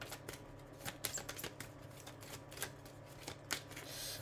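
Tarot cards being shuffled by hand, a quick run of soft riffling snaps and flicks at close range with no voice over them.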